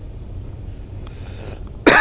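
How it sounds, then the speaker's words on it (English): A single short cough bursts out at the very end after near silence with faint low hum, close and loud. "excuse me for coughing"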